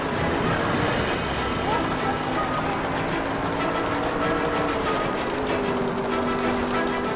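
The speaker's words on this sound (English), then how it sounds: "Don't catch that train," A train rumbles past in L.A. Noire during a car chase, a steady loud rolling roar with sustained tonal hum and rail clatter throughout, engine noise mixed in, while voices speak over it.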